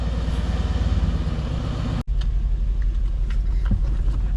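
A tuned 630bhp Mercedes C63 AMG engine burbles loud and close with a pulsing, throbbing rumble, interrupted by a brief cut before the lumpy low idle resumes.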